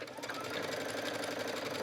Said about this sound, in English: let's just stitch a little bit of this one